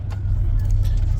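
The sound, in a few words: bus riding on road in Ecuador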